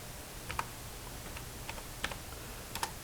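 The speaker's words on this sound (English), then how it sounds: "Type it in right." Sparse typing on a computer keyboard, a few isolated key taps spread out over a quiet background hiss, with no voices.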